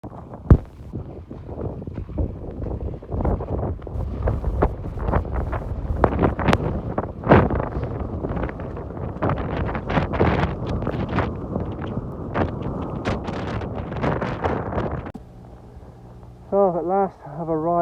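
Strong gusting wind buffets the microphone on a Dartmoor hilltop during a trail run, with heavy rumbling bursts throughout and someone talking over it near the end.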